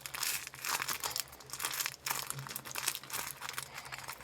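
Close, continuous crinkling and crunching of a paper squishy toy and a plastic-bag squishy toy being squeezed together, with steady rustling bursts throughout and no voices.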